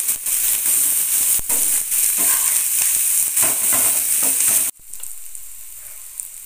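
Cauliflower stems with turmeric sizzling steadily in a pan over a medium gas flame, a loud continuous fry with occasional stirring scrapes, then cutting to a quieter, fainter sizzle near the end.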